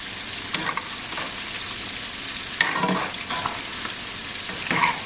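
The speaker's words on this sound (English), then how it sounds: "let them stay in there and fry on high for about 2 minutes without touching them" Flour-coated shrimp deep frying on high heat, giving a steady close sizzle with a few louder crackling bursts and no talking.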